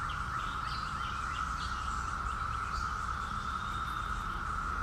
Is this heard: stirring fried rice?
no